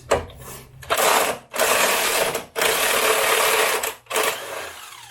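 An impact wrench fastening a winch plate on a Jeep Grand Cherokee WJ, in four loud close rattling bursts separated by brief pauses.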